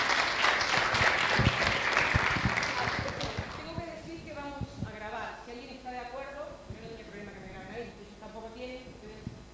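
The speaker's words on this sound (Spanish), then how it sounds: "Así que le damos un aplauso a Antonio y a Inés." Conference audience bursts into applause, dense clapping that swells then thins out after about three seconds as a voice begins speaking over the fading claps.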